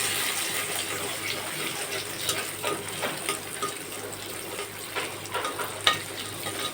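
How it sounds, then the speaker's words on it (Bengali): An egg frying in a pan over a clay stove, giving a continuous bright sizzle with scattered spatula scrapes and taps, fairly close and without speech. "ভালোভাবে ডিমটা ভেজে নেব।"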